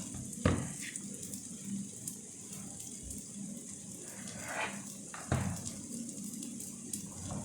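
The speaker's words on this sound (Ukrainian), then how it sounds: "І на помірному вогні смажимо їх." Zucchini slices frying over moderate heat in a pan give a soft, steady sizzle, quiet and close, broken by a couple of sharp clinks from utensils.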